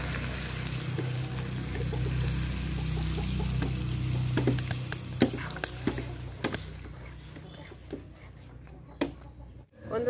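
Water poured into a pot of sizzling mutton curry with fried potatoes, a continuous rushing pour and hiss that settles into scattered crackles and pops, heard close up.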